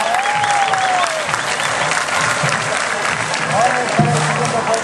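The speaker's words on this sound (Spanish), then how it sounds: "Ella es Grecia Pacheco Peralta, para cual pido un fuerte aplauso." An audience at a children's singing contest, La Voz Atoyac 2015, claps in sustained, loud applause. A voice talks briefly over the clapping.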